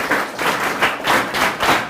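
Lecture-hall class clapping together on request, a loud, quick rhythmic run of hand claps with regular pulses across two seconds.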